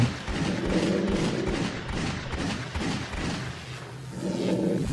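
Sustained bursts of rapid gunfire from the video game Tomato Way 2, loud and dense, with booming low tones rolling through the volleys.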